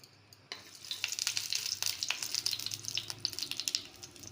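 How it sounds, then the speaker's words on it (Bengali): Figs and potatoes fry in hot oil in a wok, a steady crackling sizzle with bursts of spitting and stirring that starts abruptly and continues close and clear without talk. "কড়াইতে তেল দিয়ে ডুমুরগুলোকে আলুগুলোকে ভেজে নেব"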